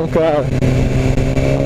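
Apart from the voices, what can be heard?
BMW S1000 R motorcycle engine revving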